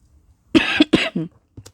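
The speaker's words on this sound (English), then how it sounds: "I didn't intend to cough in your ear." A couple of close, sharp coughs in quick succession, loud and dry, followed by a brief quieter catch of breath.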